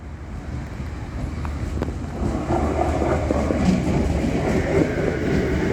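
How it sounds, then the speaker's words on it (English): A Cranbourne or Pakenham metro train, one of the newer models, rolls into Caulfield Station with a rising rumble and faint rail clatter. Wind buffets the microphone close by. "the Cranbourne or the Pakenham train coming in with one of the newer models on the front there"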